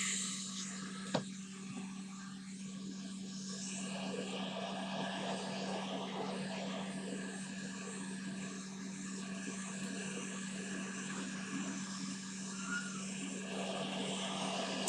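A hot air rework station blows at 490 degrees and 90% airflow while reflowing parts on a Game Gear replacement circuit board. It makes a steady, close whooshing rush with a constant low hum and no pauses.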